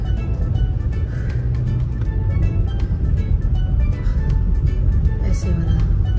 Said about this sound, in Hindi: गाड़ी थोड़ी धीरे चला,